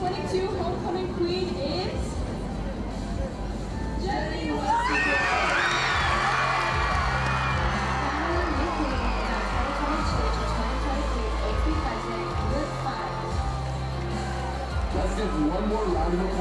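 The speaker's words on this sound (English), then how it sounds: "one more round of applause for your 2022 homecoming court and your king and queen" A stadium crowd at a 2022 high school homecoming football game bursts into loud cheering and applause for the homecoming queen, swelling suddenly after a few seconds of murmur and holding as a dense, sustained roar.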